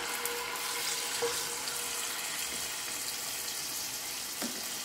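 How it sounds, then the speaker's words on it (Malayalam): Marinated Afghani chicken frying in hot oil, giving a constant, fairly quiet sizzle with light crackles and a few faint clinks, no talking. "ഇതിനെ എടുത്ത് ഞാൻ ഇത് എൻ്റെ എണ്ണയ്ക്കകത്തേക്ക് ഇടാൻ പോവാണ്"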